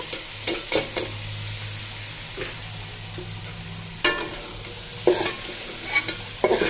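Pilau rice being stirred and fried in a pan with ginger-garlic paste and spices, with a steady low sizzle under repeated scraping strokes of a spoon, several sharper clinks near the end; no talking.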